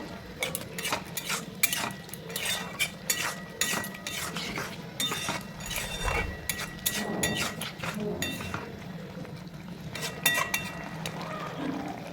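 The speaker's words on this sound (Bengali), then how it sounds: "এরপরে এটাকে ভালোভাবে একটু নেড়ে চেড়ে নেবো" A spoon stirs prawn curry with chopped coriander in a pan, making repeated scraping and clinking against the metal over a soft sizzle, with faint talking in the background.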